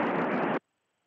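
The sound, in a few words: radio static with squelch opened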